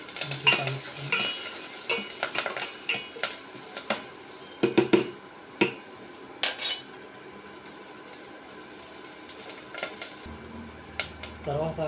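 Onion and curry leaves fry in a pan under a soft sizzle while a metal spoon stirs them, giving repeated sharp clinks and scrapes against the pan, close by, with no talk.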